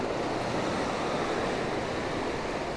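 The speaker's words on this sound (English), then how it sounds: "That's some violent water" Turbulent water churns violently below the turbines of a mountain spillway, a loud continuous roaring wash close by, with no voices.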